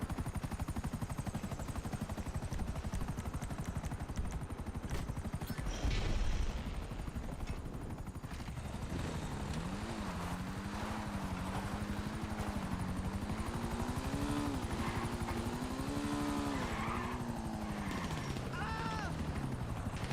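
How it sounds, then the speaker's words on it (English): A Buzzard attack helicopter in GTA Online whirs with a continuous rotor drone that rises and wavers in pitch, mixed with game noise and someone talking over it throughout. "I think the way the Buzzard backup helicopter works is they just shoot anyone who's firing their gun around you"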